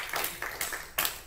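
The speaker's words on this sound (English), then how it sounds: "Give the Lord a good hand clap." A church congregation claps briefly in praise, a few soft, scattered bursts of hand claps at a moderate distance, fairly faint and quickly over.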